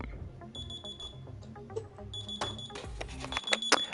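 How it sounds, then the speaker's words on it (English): A phone alarm goes off, a repeating electronic ringtone with steady tonal beeps over a low background, growing busier and louder toward the end. "I forgot to disable an alarm on my phone."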